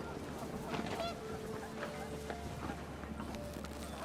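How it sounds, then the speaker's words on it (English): Panicked geese honk in the video game What Remains of Edith Finch, a busy flock calling several times over a steady windy rumble, moderately loud and without talk. "The wind picked up and panicked geese appeared and quickly went."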